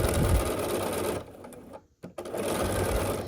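Close sewing machine stitching a quilt block seam: rapid steady whirring, a brief stop, then stitching resumes.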